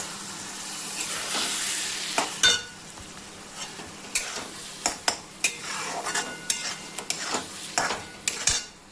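Five grated eggs being stirred in a pan for an egg ghotala dish, a soft steady sizzle under irregular scraping and clinking of a spoon against the metal, close and fairly quiet, with no talking.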